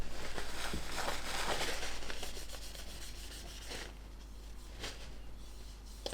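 Soft rubbing and sanding strokes work across a heavy-bodied paint finish on a scale model, a quiet, close, continuous abrasive scratching that eases slightly partway through, with no voices over it.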